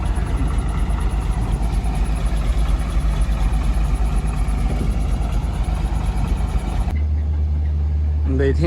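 Engine running while diesel is pumped into drums for two large generators in Africa, a loud continuous droning rumble that shifts tone near the end.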